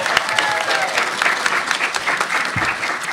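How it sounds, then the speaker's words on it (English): A cartoon convention audience applauds steadily and loudly for a cartoonist, a dense, sustained wash of clapping that stays full from start to finish. "Everyone give a great round of applause for Ngozi."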